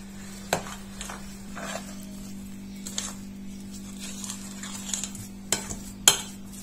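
Chickpea falafel mixture with paprika and breadcrumbs or panko being stirred together, giving sparse clinks and soft scrapes of a utensil against a bowl over a steady low hum.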